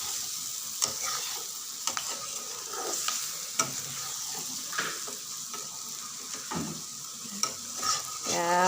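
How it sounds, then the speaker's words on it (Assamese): Onions frying in a pan with salt, stirred repeatedly until golden; a steady bright sizzle runs throughout, punctuated by regular scraping strokes of the spatula, fairly close and loud. "এয়া অলপ গোল্ডেন কৰিব লাগিব পিঁয়াজখিনি ভাজি"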